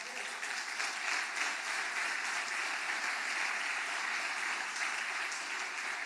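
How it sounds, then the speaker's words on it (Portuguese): Sustained audience applause at a church sermon gives dense, even clapping from a crowd that holds steady throughout, with no voices over it. "pode aplaudir."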